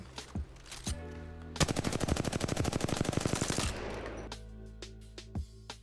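Automatic weapon fire from the video game Apex Legends, fired from the hip: a dense, rapid burst of loud shots lasting about two seconds, framed by a few isolated shots and game sounds.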